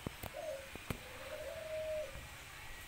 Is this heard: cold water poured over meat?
no